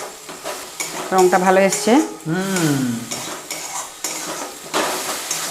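Onion paste frying in a pan for paneer butter masala, with a steady sizzle and scraping stirs of a spoon against the pan, while someone speaks briefly over the cooking.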